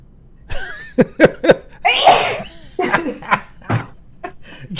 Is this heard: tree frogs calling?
no